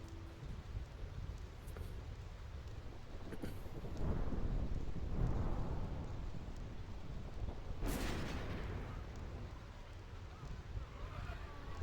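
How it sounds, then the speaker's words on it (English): Thunder rolls across the Thunder Plains in the Final Fantasy game, deep rumbles and cracks building under a steady hiss of rain and wind, with one sharper clap midway. "You can hear the thunder that's gonna overtake them."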